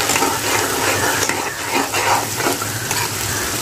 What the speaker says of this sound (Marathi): कांद्याला पण चांगला असं फ्राय करून घेऊया गोल्डन कलर येईपर्यंत.